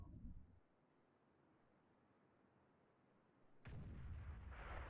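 Artillery fire in World of Tanks, a self-propelled gun lobbing a shell toward an IS-7 heavy tank: a single loud boom with a rumbling tail that bursts out near the end after a quiet stretch.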